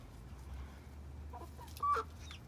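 Soft clucking from chickens comes in a few brief calls over a low steady background hum, fairly faint and close.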